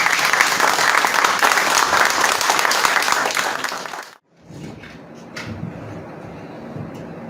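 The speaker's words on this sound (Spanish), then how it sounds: "lo recibimos con un fuerte aplauso." Loud, dense applause from an audience at a literature talk, many hands clapping steadily for about four seconds before cutting off abruptly, followed by quieter room noise and shuffling.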